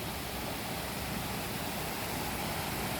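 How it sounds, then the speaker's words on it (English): A small garden stream of running water gives a steady, broadband rushing wash, continuous and even throughout with no voices. "So here's a little stream."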